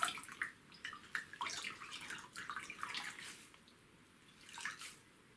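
Water from a soaked knitted Moebius cowl squelches and drips in soft, irregular splashes as it is pressed out by hand, quiet and close.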